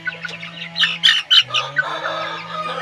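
Aseel chicks squawking and chirping in a cage, a run of loud, sharp calls bunched in the middle over a steady low hum, with shrill overlapping cries as the young birds fight.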